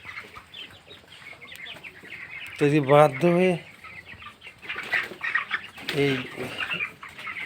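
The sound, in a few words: broiler chickens clucking and flapping in a poultry shed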